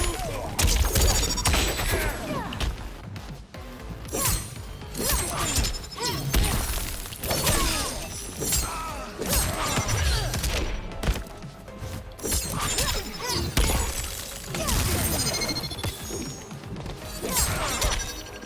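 Kitana's wind bomb move in Mortal Kombat 1, a dense barrage of loud shattering crashes and bursts in quick succession, continuous and chaotic throughout with little pause.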